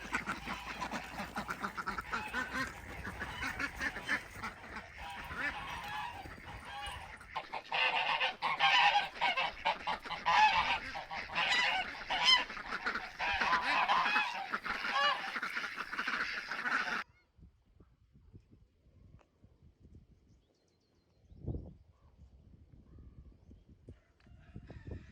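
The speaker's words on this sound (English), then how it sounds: "So that's why I march the ducks every day out into the orchard." Farm ducks being marched into an orchard quack and honk in a loud, busy chorus of overlapping calls, then the flock falls away to faint, scattered sounds with one brief burst of quacking.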